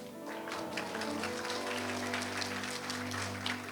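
Audience applause during a church sermon, a steady spread of clapping from the congregation over a sustained, droning musical backdrop, moderately loud and continuous.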